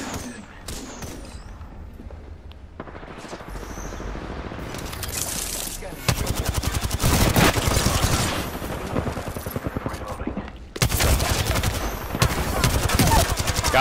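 Gunfire in the battle royale shooter Apex Legends, with scattered single shots at first and then loud, rapid automatic bursts that keep going, broken by a brief pause.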